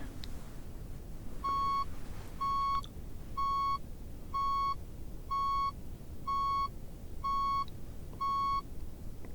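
Eight evenly spaced electronic beeps ring out in a steady rhythm, clear tones over a low background hum, no voices.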